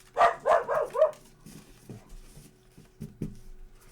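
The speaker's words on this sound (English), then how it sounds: "don't mind my idiot dog." A dog barks four times in quick succession, close and fairly loud, followed by a few softer scattered sounds.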